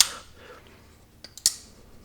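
A few crisp metallic snaps of a folding knife blade flicking open ring out in quick succession, sharp and close, with near silence around them.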